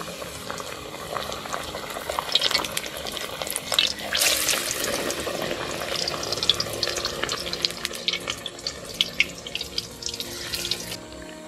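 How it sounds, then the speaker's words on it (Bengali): Eggplant fritters (beguni) bubble and sizzle steadily in hot oil, a dense continuous crackle close up, with sharper spitting bursts now and then and no talking. "এইভাবেই আমি সব বেগুনি ভেজে নেব।"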